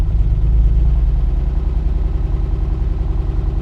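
A Ford Granada Mk1 runs with its gearbox in reverse, making a steady, close, pulsing mechanical drone with a fast regular beat throughout.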